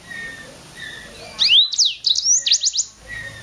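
Mozambique canary singing close by, a loud run of sharp high chirps and rapid trills in two bursts with a short pause between, no talk.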